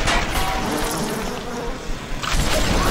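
A swarm of bees attacking in the video game BioShock, a dense, loud buzzing drone that fills the whole moment, swelling toward the end.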